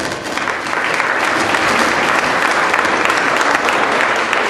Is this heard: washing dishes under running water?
no